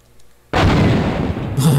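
Gunfire in a PlayStation demo video game as shots are fired at a gate: a sudden loud, sustained burst of shooting and blasts kicks in after a quiet half second and continues dense to the end.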